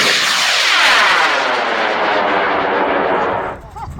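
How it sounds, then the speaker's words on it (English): A Level 2 fiberglass model rocket motor roars loud and steady for about three and a half seconds as it launches, then the rushing thrust cuts off abruptly. "5, 4, 3, 2, 1, launch."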